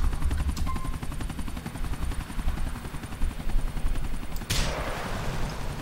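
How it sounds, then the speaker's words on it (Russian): A helicopter in the video game Grand Theft Auto IV thumps steadily with rapid rotor chop throughout, mixed with bursts of gunfire and a sharp blast near the end, loud and without talk. "Где вертолет?"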